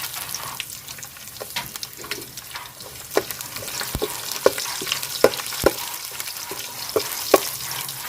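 Garlic frying in oil for a village-style moong dal rasam makes a loud, continuous sizzle, broken by frequent sharp taps and scrapes of a spoon against the pan.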